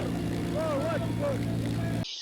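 A helicopter in news footage of STF fighters dropping bombs from the air, heard as a continuous, loud, low engine and rotor drone. A few faint higher tones rise and fall over it before it cuts off abruptly.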